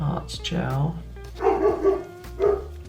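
Dogs bark in a few short, fairly loud bursts at home while a person keeps talking over them during a nail art session.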